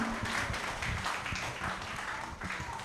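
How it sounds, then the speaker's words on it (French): An audience applauding loudly at a children's holiday quiz competition, a dense steady patter of many hands clapping throughout with a few voices mixed in. "On s'applaudit très très fort."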